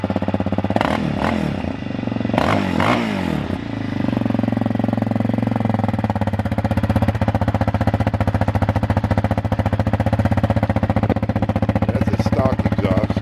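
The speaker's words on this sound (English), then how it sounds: "That's a stock exhaust." A 2006 Yamaha Raptor 700R ATV engine on its stock exhaust, close and loud; it blips and revs in two sharp bursts, then settles into a steady, pulsing, clattery idle.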